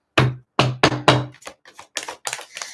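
Tarot cards shuffled in a series of crisp, close riffling bursts, several sharp clustered slaps in quick succession with no talking.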